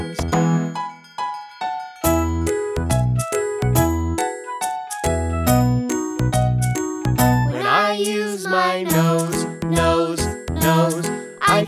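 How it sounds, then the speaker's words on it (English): Bright bell-like chime tones ring and overlap in a melodic pattern within a children's nursery song, with sung vocals in the middle stretch. "When I use my ears, ears, ears, I can hear the wind chimes."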